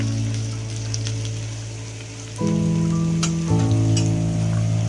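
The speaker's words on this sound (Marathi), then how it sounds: "आता टाकूया आपण ह्याच्यामध्ये शिमला मिरची. पण अशी 1-2 मिनिट अशी परतवून घ्यायची." Capsicum is tossed and fried in a pan for a homemade crispy chicken dish, giving a steady, close sizzling hiss over a low hum that steps up louder partway through, with no talking.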